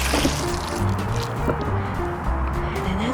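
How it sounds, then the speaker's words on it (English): Dirty water pours out of an O-Cedar mop bucket in a steady, close splashing gush that runs for a few seconds. "grab the bottom, the base like this. Just pour the water out"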